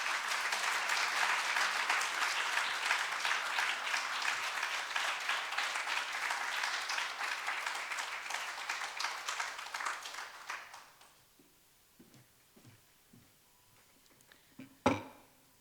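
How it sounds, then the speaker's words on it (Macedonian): A large crowd at a ceremony honouring Macedonia's most successful women managers gives dense, sustained applause for about ten seconds, then it fades into a few scattered claps and a sharp knock. "Уште еден аплауз ве молам."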